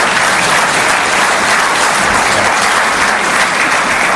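Audience applause for a talk on religion, a dense, steady wash of clapping from a large crowd that holds at the same loudness for about four seconds with no voices over it.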